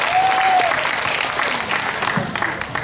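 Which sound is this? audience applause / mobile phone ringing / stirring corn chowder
audience applause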